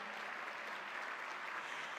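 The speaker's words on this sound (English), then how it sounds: "Big round of applause for Florida Weekly." An audience applauds Florida Weekly with a steady, faint wash of clapping that holds evenly from start to finish, with no voices on top.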